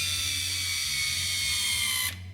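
A Fromm P328 friction weld strapping tool tensions polyester strap with a steady high-pitched motor whine over a low mechanical hum, close and continuous, cutting off abruptly near the end.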